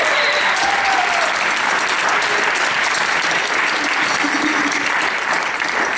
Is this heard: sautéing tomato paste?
no